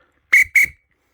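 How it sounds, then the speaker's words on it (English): A railway guard's whistle gives two short, shrill blasts in quick succession, loud and close, with nothing else audible. "the guard blew his whistle and waved his green flag"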